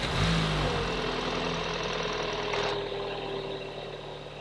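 Volkswagen Golf R MK7.5 engine running at a steady idle inside a garage, a close, even mechanical hum that eases slightly toward the end.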